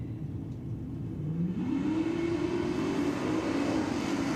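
Drag racing cars, among them a VH Commodore, launch at Sydney Dragway. An engine roars up in pitch as it accelerates away, loud and sustained over a low rumble.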